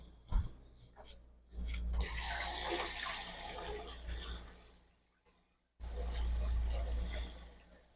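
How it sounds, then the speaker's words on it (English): Running kitchen tap water rinsing off a utensil in the sink, two bursts of steady splashing flow separated by a brief pause, fairly close. "Now I'm gonna go rinse this off"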